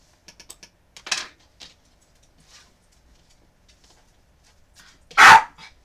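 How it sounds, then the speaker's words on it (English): A dog gives two sharp barks, one early and a louder one near the end, separated by quiet stretches with faint keyboard typing clicks at the start. "Dog, seriously. We don't want to constantly hear you bark."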